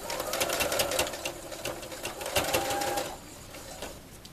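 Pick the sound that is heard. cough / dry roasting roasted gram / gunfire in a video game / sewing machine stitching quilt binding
sewing machine stitching quilt binding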